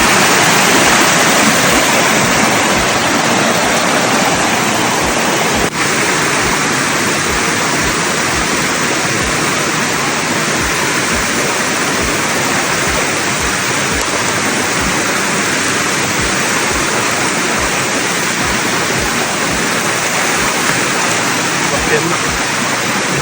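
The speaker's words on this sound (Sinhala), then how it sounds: "එනකොටම පොඩි දියාපාරක් තියෙනවා" A small mountain stream on the Sandagalathenna route up Sri Pada flows with a loud, continuous rushing wash of water, close and steady throughout with no pauses.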